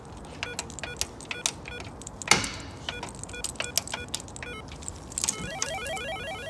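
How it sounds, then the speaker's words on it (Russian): An old apartment-door intercom gets opened, giving off a string of electronic beeps and tones, sharp clicks, and a rising buzzing whine, close and fairly clear, with a patterned melodic signal near the end. "Еще где-то легендарный домофон открываем"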